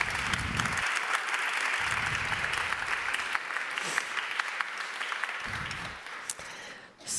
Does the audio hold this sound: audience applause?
yes